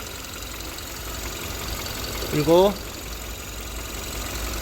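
A Hyundai Avante MD engine with about 70,000 km on it idles cold, giving a steady, smooth low hum heard close up while someone speaks briefly over it.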